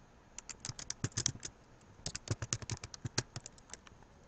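Quick bursts of typing on a computer keyboard, two clustered runs of crisp key clicks separated by a brief pause, close and fairly quiet with no talking.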